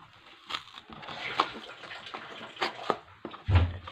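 Milk is poured into a cooking pot in a soft, uneven stream of splashes and sloshes, quiet and close, in a home kitchen.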